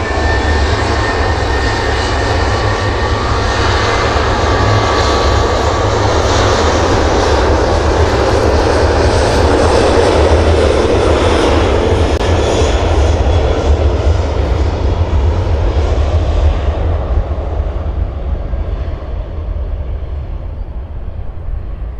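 An aircraft departing an airport for Alicante, its engines producing a loud, sustained roar that holds steady for a long stretch before fading out at the end.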